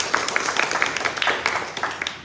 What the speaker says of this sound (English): Can we give them another one more round of applause?